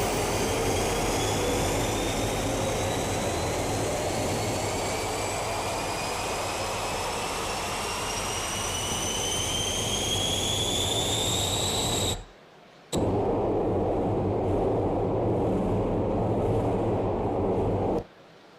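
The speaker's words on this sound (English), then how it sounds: "a gas-fired turbine" A gas-fired turbine runs on a test table, producing a steady loud roar with a high whine that slowly climbs in pitch. The sound cuts out briefly, then resumes.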